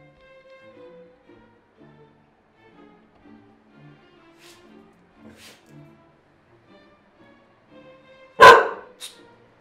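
An aggressive dog near a cat lets out one sharp, loud bark followed quickly by a shorter second one, after a long stretch of faint, quiet voices.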